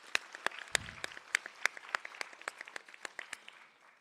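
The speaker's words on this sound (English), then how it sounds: "Can you please give them a round of applause?" A small audience at a nursing graduation ceremony gives a brief round of applause, a sparse, faint scatter of distinct claps from a few people that trails off within seconds.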